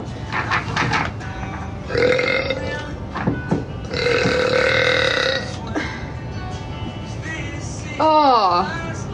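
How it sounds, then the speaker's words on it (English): A young woman with acid reflux burps several times in loud, throaty bursts spread across the stretch. Short spoken remarks come between the burps. "Oh, this burp is stuck."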